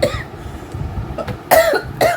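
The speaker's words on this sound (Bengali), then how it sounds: "খুব কাশি" A person coughs several times close by, sharp harsh bursts with short pauses between them, ending in two strong coughs.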